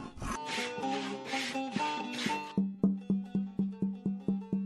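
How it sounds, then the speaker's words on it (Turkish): Several slow rasping scrapes across wood, followed by a run of evenly spaced ringing taps, close up and fairly quiet. "şu anki işlemimiz kazıma işlemini yapıyoruz."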